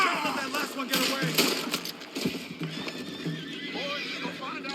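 Horses galloping with hooves clattering and loud repeated neighs and whinnies in Red Dead Redemption 2, a busy, dense mix with voices calling out over the commotion.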